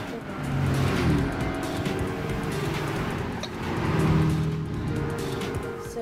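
Race cars speeding in Gran Turismo 5, a continuous loud roar of engines at high speed with shifting pitch and a brief tire squeal, while a voice talks quietly underneath.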